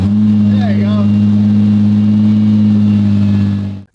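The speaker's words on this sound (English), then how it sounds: "Luckily, on the second attempt, the engine fires right up." A 2018 Nissan GT-R engine idles loudly and steadily close by, a strong constant drone that cuts off at the end, with brief voices over it early on.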